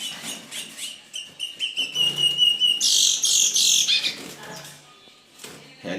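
Curió songbirds, a male and a female, calling during a breeding attempt: a run of bright chirps and whistled trills, fairly close and loud, with a busier burst of song in the middle.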